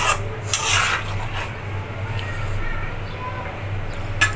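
An onion-tomato masala gravy stirred and fried in a pan, heard as steady scraping and rubbing of a spoon against the pan with a faint sizzle beneath, plus occasional louder scrapes.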